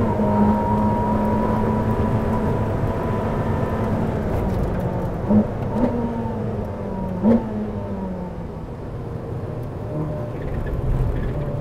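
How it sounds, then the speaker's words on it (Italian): A Ferrari SF90 XX road car lapping a race track, its engine note droning loud and steady with harmonic bands dropping and blipping briefly as it downshifts into a corner, heard from on board with no voices. "Senti il downshift."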